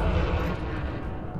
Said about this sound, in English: these shot cannons generate quite a bit of heat